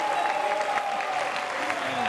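Studio audience applauding on a French television variety show, steady dense clapping with crowd noise and a sustained tone running underneath throughout.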